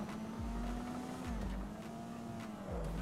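Car engine in GTA 5 racing on a parkour track, revving steadily with repeated gear-shift drops and tire noise, loud and continuous with no talking.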